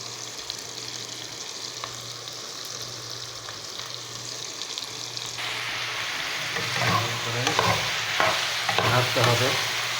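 Onions fry in a pan for an egg curry, giving a soft, steady sizzle with a low hum underneath; about halfway through the frying grows louder and busier, with crackles and stirring scrapes near the end.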